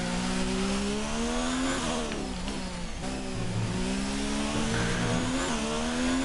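Formula 1 race car engine in F1 2019 at the Russia track, a steady high-pitched whine revving up and down through gear changes across the lap, loud and continuous with no talk.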